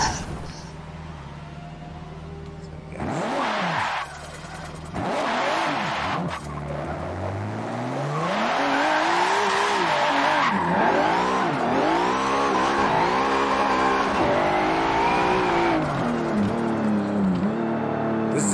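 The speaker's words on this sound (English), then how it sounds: "This is exactly what my RB26 sounded like back in the day" Nissan RB26 engine of a drifting car in the Forza racing game, revving hard and rising and falling in pitch with tire squeal, loud and continuous after a few choppy bursts at the start.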